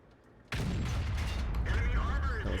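A tank cannon shot in World of Tanks battle audio: a sudden loud boom, then a sustained roar of rumble and mechanical noise.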